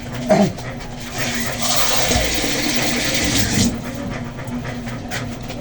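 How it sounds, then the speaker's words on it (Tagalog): Water pours steadily into a bowl for a couple of seconds while making a brine for fried chicken, preceded by a brief clink and followed by quieter handling noises. "maglagay tayo nito ng tubig"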